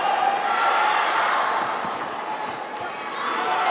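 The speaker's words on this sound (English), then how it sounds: "the crowd is as present as can be right now" Arena crowd at a table tennis world championship final roars in a dense, sustained wash of cheering, with a commentator talking over it.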